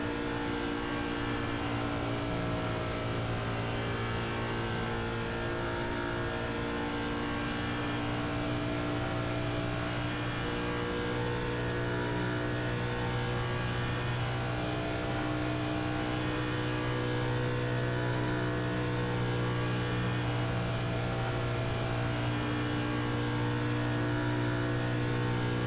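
A NASCAR race car engine in the iRacing simulator at Pocono drones steadily and loudly for the whole stretch, holding a sustained high-revving tone with slight shifts in pitch and no voices.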